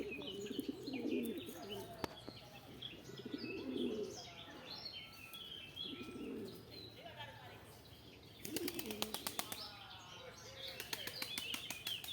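Pigeons coo in low, repeated rolling calls, with bursts of wing flapping and scattered small chirps nearby.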